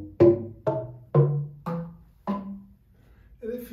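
Five separate plucked tones of an ancient Chinese musical scale, five thousand years old, sound one after another in order of length at an even, unhurried pace, each note ringing and fading before the next, followed by a faint brief sound at the end.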